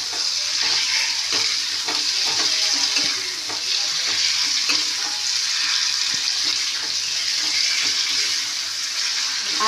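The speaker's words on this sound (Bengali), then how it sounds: "আলুটা দিয়ে এবার একটুখানি ভাজা ভাজা হোক" Potatoes frying with spices in a pan, a continuous close hiss and sizzle that holds steady for the whole stretch, with faint stirring clicks and no talk.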